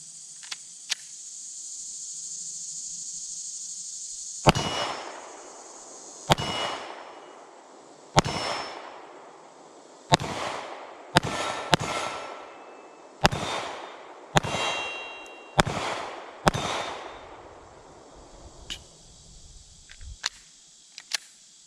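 Canik MC9 9mm pistol firing Blazer brass 115 grain rounds at steel targets outdoors, about a dozen sharp shots at irregular intervals, each followed by a ringing clang, with a steady hiss under the first few seconds.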